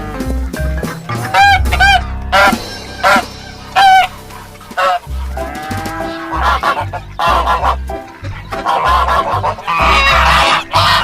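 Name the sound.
goose honking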